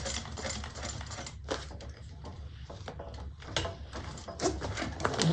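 A sewing machine back stitching near the top of a bag, a close, rapid mechanical chatter that comes in uneven bursts with brief pauses.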